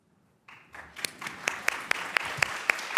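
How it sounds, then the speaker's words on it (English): At a public congress on AI in health care policy, a conference audience applauds the panelists and moderator after a brief silence, clapping that swells quickly into steady applause, with a few sharper claps standing out near the front. "how about a big round of applause for our awesome panelists and our great moderator"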